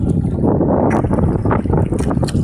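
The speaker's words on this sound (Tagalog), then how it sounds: "Bakas yung amihan." Strong northeast monsoon wind buffets the microphone at sea aboard a small fishing boat, a steady loud roar with gusty bursts and water sloshing beneath, continuous for the whole stretch.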